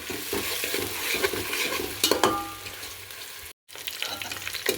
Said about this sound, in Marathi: अशाच प्रकारे कांदा भाजून घ्यायचा आहे चांगला.